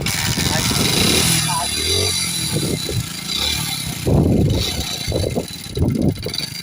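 A motorcycle engine is kicked over and sputters into a rough, revving idle, close by, with a voice talking over it.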